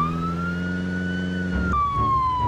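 Police car siren in the Project Zomboid video game, a close, steady wailing tone that slowly rises and then falls in pitch, with a brief jolt partway through before the wail continues.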